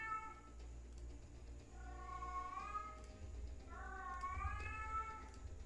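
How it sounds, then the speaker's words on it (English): A house cat meows a few times indoors, each call drawn out and wavering, fairly quiet against a low background hum. "Say hello to my cat."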